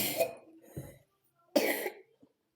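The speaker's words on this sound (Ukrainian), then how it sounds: "У вас чудовий кашель, який ми принесли із садочку" A young child's two bursts of harsh coughing, close by, with a short pause between them and a faint catch of breath at the end.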